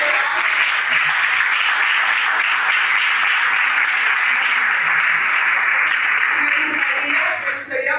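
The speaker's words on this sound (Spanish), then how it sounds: "quiero aprovechar de darle un aplauso grande a mis 3 becarios" An audience gives three scholarship students a big round of applause: dense, steady clapping that stays loud and unbroken for about eight seconds before dipping briefly near the end.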